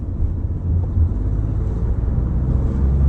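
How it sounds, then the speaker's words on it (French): Low, steady engine rumble from a Peugeot 208 driven under acceleration, a continuous drone heard from inside the car, with no clear gear-change breaks. "on va accélérer un petit peu pour voir si tous les rapports passent"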